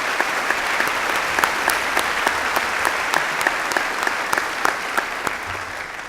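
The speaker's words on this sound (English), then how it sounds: "Can I please have a round of applause for all of these wonderful people?" An audience at a 2019 high school graduation ceremony applauds steadily for about six seconds, a full even wash of clapping with sharper individual claps popping out.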